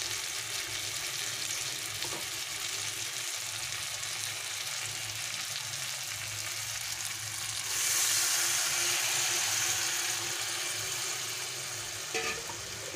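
Chicken masala cooking covered on a low flame in a pan, a steady soft frying sizzle throughout that grows slightly brighter partway through, with a faint clink near the end and no voices.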